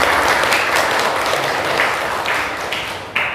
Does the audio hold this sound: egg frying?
no